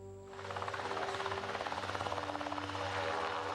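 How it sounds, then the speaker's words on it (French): Colombian air force helicopters take off during a search for a Boeing 757 wreck on a mountain, the rotor swelling from quiet into a loud, rapid, steady chop over a deep engine whine. "Les premiers hélicoptères décollent pour tenter de localiser l'épave"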